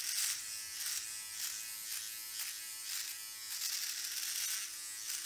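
A Philips OneBlade electric shaver fitted with a size 5 comb trims facial hair, giving a steady close-up buzz with rhythmic swells as it catches and cuts the hairs.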